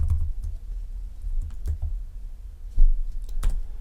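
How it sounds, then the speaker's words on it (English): Rapid typing on a broken computer keyboard with missing and broken keys, sharp close clicks and clacks in an uneven rhythm, no talking. "it's so hard to type on this broken keyboard"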